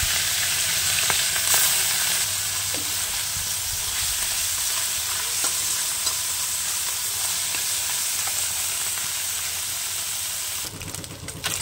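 A loud, continuous sizzle of small turmeric-and-salt-coated mourola fish frying in hot oil, with occasional clicks and pops and a brief clatter near the end.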